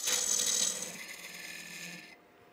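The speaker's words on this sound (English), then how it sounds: "that is how you cut the tenon, and that's a nice tight fit" Lathe tool scraping a tenon on a spinning wood turning for a tall turned table, a soft hissing cut that tapers off and stops after about two seconds.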